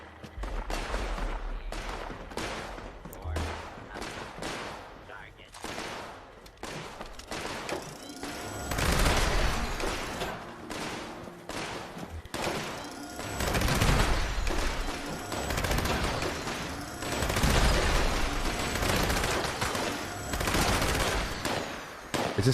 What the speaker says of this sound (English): It's just so ridiculous using a minigun